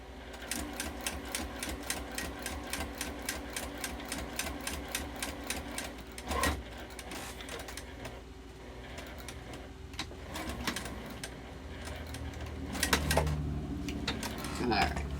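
A sewing machine stitches steadily through a fabric wallet made from quilting cotton, rapid even mechanical clatter running for a long stretch with brief pauses and slight speed changes, close and fairly loud.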